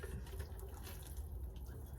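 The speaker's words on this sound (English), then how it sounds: "So let's get some water on it." Water poured from a can onto a freshly sown, levelled aubergine seed tray, a soft steady splashing trickle that runs evenly and close by.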